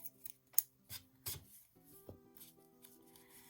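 Scissors trim excess fabric while a small mini needle book is assembled, making a few quiet, separate snips and rubbing sounds spaced across a short, otherwise hushed moment.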